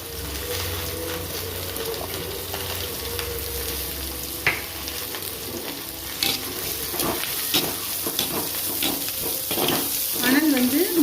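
Finely chopped onions fry in oil in a pan over medium heat, a continuous close sizzle with scattered utensil scrapes and taps and light stirring clatter building toward the end.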